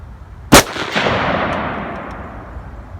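An AR rifle chambered in 223 Wylde firing 5.56 ammunition outdoors, a single loud, sharp shot followed by a long rumbling echo that fades over about two seconds.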